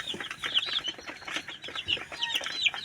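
Backyard chickens kept for household needs cluck and chirp in short, uneven bursts, fairly close but soft, with no talk over them.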